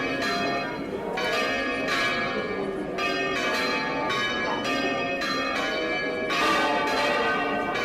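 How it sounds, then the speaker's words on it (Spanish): The bells of all the city's parish churches and convents peal together in a dense, continuous wash of overlapping strikes, loud and sustained with no pauses. "las campanas de todas las parroquias y conventos de la ciudad comenzaron a tocar al unísono"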